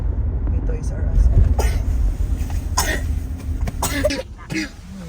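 A child coughs repeatedly in a loose, irregular series at a busy shopping mall, loud and close over a steady crowd-and-traffic murmur with voices around.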